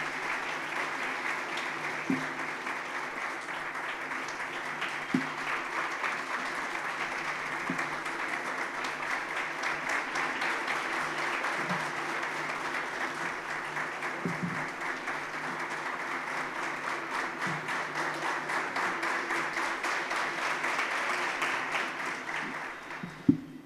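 An audience at a community program in Surat gives sustained applause for honoured guests, a steady mid-distance wash of many hands clapping for over twenty seconds without a break.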